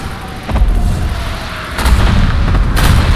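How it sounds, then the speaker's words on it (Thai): Heavy booming bombing explosions in a video game rumble continuously, with several louder blasts bursting through a dense, roaring wash of noise. "มีทิ้งระเบิด"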